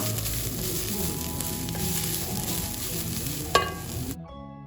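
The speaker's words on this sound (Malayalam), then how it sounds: "ഞാനിപ്പോൾ കപ്പ ബിരിയാണി ഉണ്ടാക്കുന്ന അതേ പാനിൽ തന്നെയാണ് വറുത്തെടുക്കുന്നത് തേങ്ങ." Grated coconut with curry leaves frying in a pan, a steady, close sizzle and crackle with occasional stirring scrapes and a sharp clink near the end before it cuts off.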